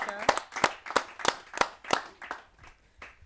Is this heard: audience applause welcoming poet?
yes